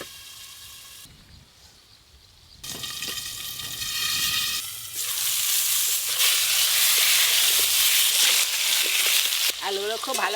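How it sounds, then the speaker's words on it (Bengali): Potatoes frying in hot oil in a home kitchen, a loud continuous sizzle that starts faintly, swells after a few seconds and stays strong, with brief stirring noises over it. "ওই তেলে আলুগুলো ভেজে নেব।"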